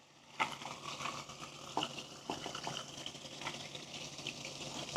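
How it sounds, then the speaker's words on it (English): Water is poured into a layered drink in a glass, a steady close splashing and gushing stream with a few louder bursts as the liquid hits, heard alone. "We start pouring our water in."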